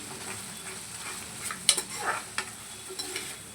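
Masala fries in a little oil with onions for an egg curry, making a quiet, even sizzle punctuated by a few sharp spoon scrapes and taps against the pan.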